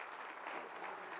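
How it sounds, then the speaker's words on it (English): Audience applause fills a conference hall at a leadership event, a dense, steady clatter of many hands clapping at even loudness throughout the short burst. "Round of applause for Russ"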